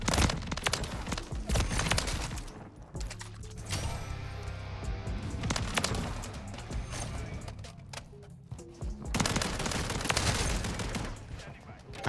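Dense automatic shotgun fire from the Riveter in Modern Warfare 3, rapid booming blasts in long sustained bursts with short gaps, loud and close amid game effects.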